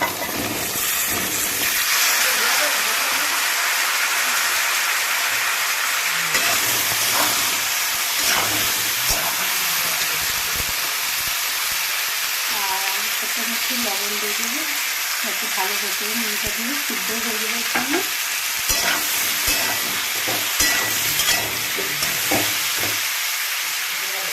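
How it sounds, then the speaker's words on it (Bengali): Potatoes and taro frying in oil with a little turmeric for a bhetki fish curry, a steady loud sizzle and hiss running throughout, with stirring scrapes and a few faint sounds of movement over it. "আর ভাজার যে তেলটা আছে ওই তেলটাতেই আমি একটু অল্প হলুদ দেব দিয়ে আলু আর কচুটা আমি ভালো করে ভেজে"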